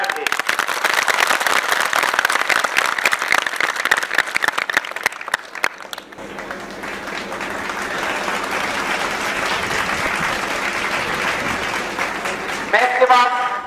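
Foundation-course students at a coaching academy's tenth-class results celebration give a long, loud round of applause for their maths teacher, crisp sharp claps at first settling into a dense steady roar, with a voice emerging near the end.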